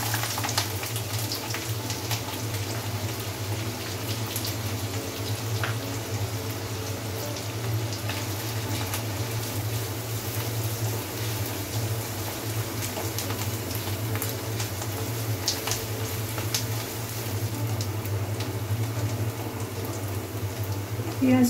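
Chopped onions frying in hot oil for a Punjabi-style begun bharta, a steady close sizzle and crackle that runs without a break, with a low hum underneath.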